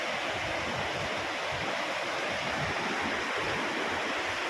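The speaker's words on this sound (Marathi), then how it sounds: "कुशीत हा बघा किती सुंदर असा धबधबा." A countryside waterfall near the village of Taral Lavganwadi in Rajapur, Ratnagiri, roars as a dense, steady rush of falling water, loud and unbroken throughout with no voices.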